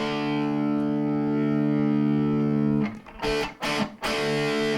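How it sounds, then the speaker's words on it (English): An electric guitar played through an amp with the gain control turned up for light distortion, a sustained chord ringing loud and steady, then a few choppy strummed hits near the end. "Now you're starting to hear a little distortion."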